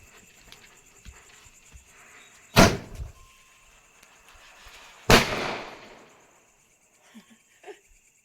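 Two loud, sharp firecracker bangs from a string of firecrackers go off a few seconds apart during Bagwal Diwali celebrations, each followed by brief crackling, with quiet outdoor background and insects between.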